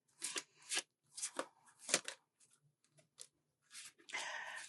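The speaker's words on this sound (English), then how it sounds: "I'm going to do one more shuffle and see what comes out." Tarot cards are shuffled by hand in several close, crisp riffling bursts separated by short pauses, ending in a longer sustained riffle.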